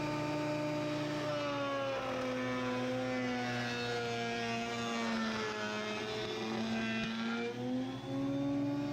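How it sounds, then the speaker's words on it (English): A thickness planer shaves a wooden board down to just under 3/4 inch for raised drawer panels, giving a loud, steady motor whine with a constant cutting roar that runs unbroken throughout, with no voices. "So I'm going to plane it down now to"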